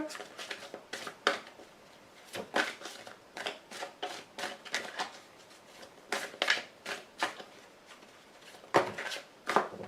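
Cards are shuffled and drawn for a reading, in repeated quick riffling and flicking bursts with short pauses between them, close and moderately loud.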